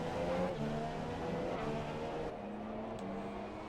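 A race car on its out lap in the game F1 2017 at the Japan round runs on ultra soft tyres, its engine droning steadily at a constant high pitch, faint and continuous without talk.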